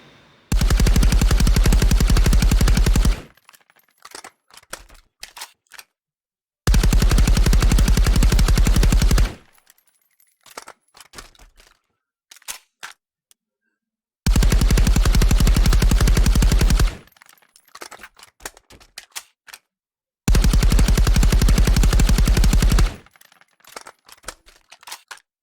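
A bullpup assault rifle in the shooter game Contractors fires four loud, close full-auto bursts of about three seconds each, separated by short quiet gaps with faint clicks and handling noises.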